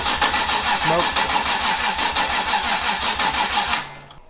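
A Toyota 2JZ engine swapped into a BMW E36 cranks and catches on its first start, running loud and rough with a sharp intake backfire pop near the start, then cutting off abruptly near the end.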